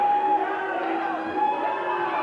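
Wrestling crowd at a Stranglehold Wrestling event at Bloodstock 2006 holds a sustained collective chant of drawn-out O's, a loud, steady wash of many voices.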